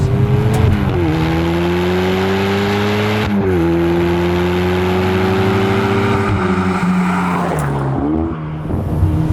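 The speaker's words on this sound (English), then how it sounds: "You do not need a Radio 2 when you've got that 4-cylinder turbocharged engine shrieking behind your ears" A turbocharged four-cylinder engine shrieks and drones steadily up close, its pitch climbing and dropping through gear changes, with no talking over it.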